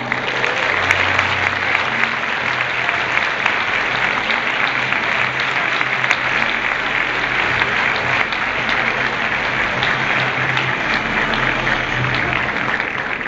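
An audience at an award ceremony for the best marathon runner of 2015 applauds loudly and continuously, a dense, unbroken roar of clapping throughout.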